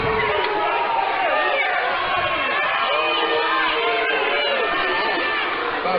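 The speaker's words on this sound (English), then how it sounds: "And the crowd a little irate with this one." A college women's basketball crowd at a CSU-Pueblo versus Chadron State game reacts angrily to a foul call, a dense sustained roar of shouting and jeering voices that fills the whole stretch.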